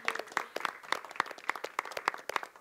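An audience applauds a person being honoured at the close of a big band music event; the separate, fairly crisp claps come in a steady, loose rhythm at moderate volume, with no voices over them.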